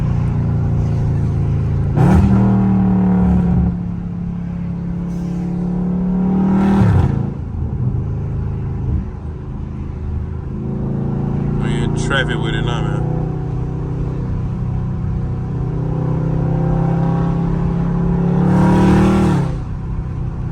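A Dodge Charger Scat Pack in track mode, its engine droning steadily with a couple of rising revs, heard from inside the car while someone talks over it.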